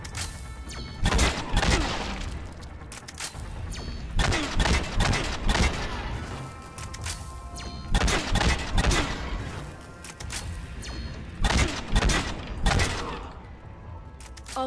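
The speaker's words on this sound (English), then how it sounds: "I'll just keep shooting you." Sustained gunfire from the Mass Effect 3 video game, loud and dense bursts of rapid shots repeating in waves every couple of seconds with booming impacts and clattering debris, no voices over it.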